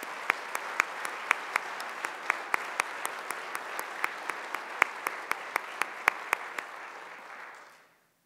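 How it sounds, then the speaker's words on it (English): Steady applause from a university convocation audience at Fort Hays State University, a soft, even roar with sharp, regular claps close by, fading out to silence at the end. "Let's applaud for these fine individuals."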